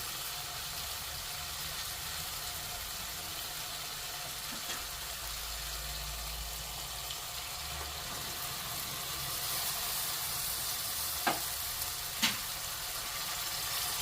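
Matki (moth bean) sprouts go into a misal-style gravy where the oil has begun to separate, giving a steady, close, even sizzle with a couple of faint clicks near the end and no talking.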